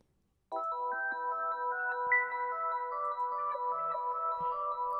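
A clean, shortened synth arpeggio starts abruptly after a moment of silence, cycling quick, clipped notes in a steady repeating pattern at moderate volume.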